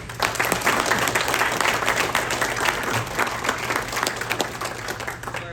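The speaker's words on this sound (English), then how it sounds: "Let's give Rob a round of applause." Audience at a financial forum applauding a speaker, a full, continuous burst of clapping from many people, close and even, holding steady before tapering a little at the end.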